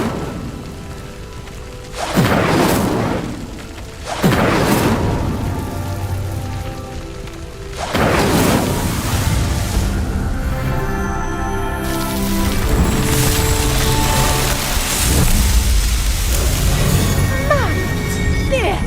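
Incendio fire spell flames engulfing a pyre in Hogwarts Legacy, a dense crackling roar that swells in sudden bursts and then burns steadily throughout.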